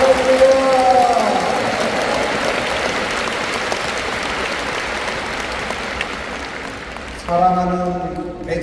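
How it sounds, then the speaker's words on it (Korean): A large crowd at a church assembly's 45th anniversary celebration breaks into sustained, dense applause that fills the hall for several seconds, with voices or music briefly audible before and after. "우리 총회를 통하여 큰 일을 행하실 하나님께 감사와 영광의 박수를 올려드립니다"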